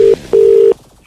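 Two loud telephone keypad tones ring out, a short beep followed by a longer one, before a comedy prank phone call, with no talking over them.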